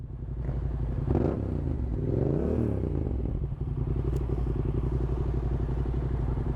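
Small motorcycles ride nearby on city streets in Amiens, their engines giving a steady close buzzing drone with a brief rising rev and clatter, continuous throughout with no talking.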